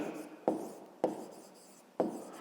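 Pen writing an answer in a notebook, three quick taps or strokes each followed by a soft scratching glide across paper, close and quiet with no speech.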